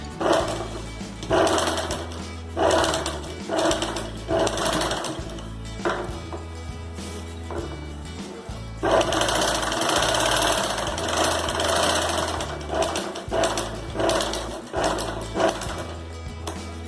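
Sewing machine stitching a drawstring channel on a small triangular fabric pouch, a steady motor hum running in bursts with brief pauses between stitching runs, close and fairly loud.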